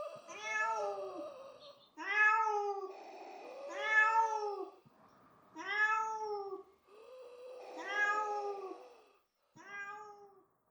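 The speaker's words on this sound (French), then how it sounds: "Photon se mit à miauler pour les soutenir." A cat called Photon meows repeatedly, six drawn-out plaintive cries spaced a second or two apart, fairly close and clear, with no other sound.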